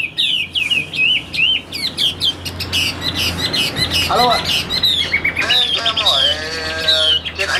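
A red-whiskered bulbul sings strongly at close range. It gives loud, rapid chirps, whistled trills and sliding squawky phrases one after another, while someone talks in between.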